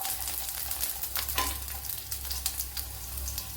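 Mustard seeds and garlic fry in hot sesame oil with a close, crackling sizzle and scattered small pops, with no talking.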